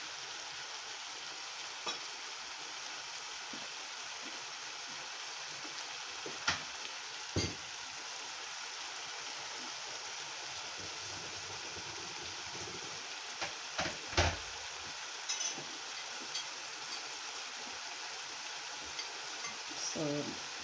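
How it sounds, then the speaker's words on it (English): Steady sizzling and hissing from a hot pan as boiling water hits cooking pork, with a few sharp louder crackles and pops scattered throughout. "So I'm just adding my boiling water, just enough water to cover my meat."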